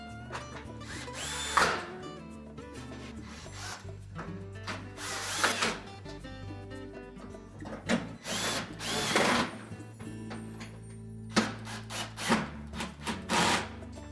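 A power drill drives retaining screws back into a Whirlpool range during a cooling blower repair, several short whirring bursts separated by quiet pauses and light handling clicks.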